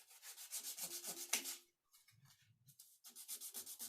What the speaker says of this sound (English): We just sand it back ever so slightly.